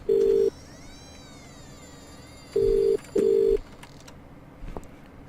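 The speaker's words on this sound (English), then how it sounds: "gonna call the home phone" A landline call placed to a home phone in The Cat Lady video game: three short, loud ringback-style tones, the last two close together, over a faint quiet background.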